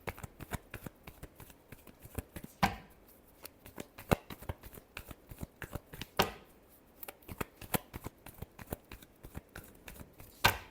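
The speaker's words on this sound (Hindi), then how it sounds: "Last shuffle." Tarot cards being shuffled by hand close up, a steady run of soft papery riffles and flicks with a few sharper slaps, no talking.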